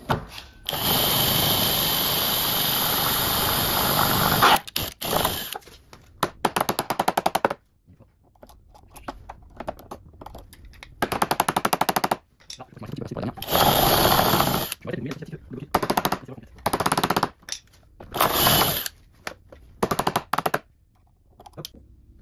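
A power drill bores into a lock cylinder in bursts, loud whining runs separated by pauses, with a longer sustained run at the start and several shorter bursts later.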